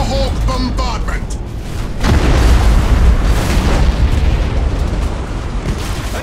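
Thunderhawk bombardment in the space strategy game Battlefleet Gothic 2: a voice speaks briefly at the start, then a heavy, rumbling wall of explosions and booms rolls in and continues loudly to the end.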